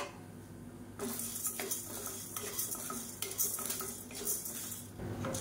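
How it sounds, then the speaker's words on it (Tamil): Chana dal being roasted and stirred in a kadai for idli podi, with a steady scraping of a spoon against the pan in repeated strokes and a faint dry sizzle, close and continuous with no talking. "இப்போ இதையும் சேர்த்து நல்லா பொன்னிறமாக வறுத்துக்கலாம்"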